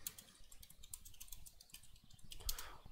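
Quick, light keystrokes on a computer keyboard in a steady, busy run, close and fairly quiet, with no one speaking.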